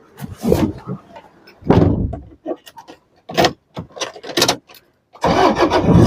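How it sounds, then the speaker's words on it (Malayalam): A Toyota Innova diesel engine cranks and catches in a few separate bursts, with short quiet gaps and clunks between attempts, ending in a loud running idle close by. "ശേഷം നമ്മൾ വണ്ടി ഒന്നുകൂടെ ഒന്ന് സ്റ്റാർട്ട് ചെയ്യുക"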